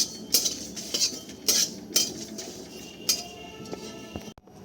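A pestle strikes dry-roasted spices in a mortar for dahi chicken, making hard clinking knocks at an uneven pace, roughly one every half second to second. The sound is close, and no one speaks.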